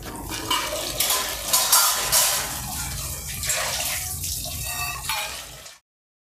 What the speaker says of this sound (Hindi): और मम्मी जल्दी बर्तन धो रही है।